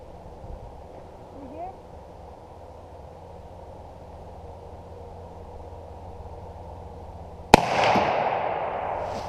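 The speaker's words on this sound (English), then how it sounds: "just squeeze the trigger till the gun goes off" A single loud, sharp muzzleloader rifle shot fires outdoors after a stretch of quiet wind and faint ambient noise, with a short echoing tail trailing after it.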